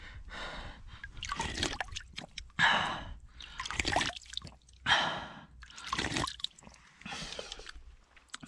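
Spring water trickling and dripping at a mountain spring on a Crimean ridge, with soft wet drips and liquid splashes in irregular bursts, close and fairly quiet, broken by gulps and breaths of someone drinking.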